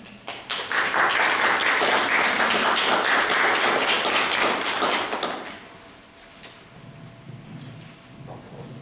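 An audience at a Sunday service claps to welcome a speaker to the podium, a dense, steady applause lasting about five seconds before it fades into a quiet room.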